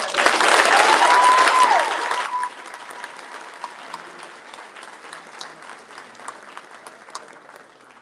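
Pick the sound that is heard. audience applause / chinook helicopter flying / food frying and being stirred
audience applause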